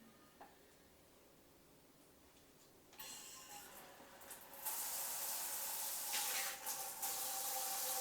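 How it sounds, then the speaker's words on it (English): Water starts flowing through a handheld shower head fitted with a shut-off valve, first a faint trickle and then a strong, steady rushing spray that fills the rest of the clip. "So I'll run some water through it."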